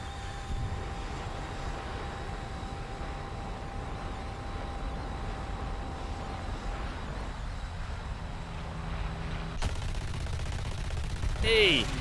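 Aircraft gunfire in War Thunder air arcade battle, with an Israeli Kfir Canard jet in play: steady dense rattling fire and engine roar running throughout, with a sharp burst change near the end.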